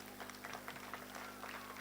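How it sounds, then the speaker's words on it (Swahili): Audience applauding at a launch event for indigenous-language books, a steady patter of clapping with a low electrical hum underneath, heard from a distance. "Si tuwapigia makofi mazuri?"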